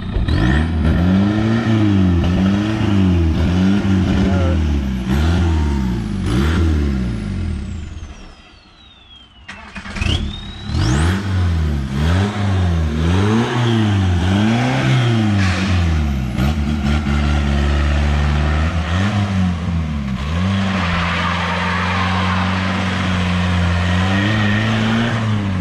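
A VW Golf 3 GT 110 engine revs up repeatedly, rising and falling in pitch with loud, close rumble, dropping briefly near idle before climbing again through several more pulls.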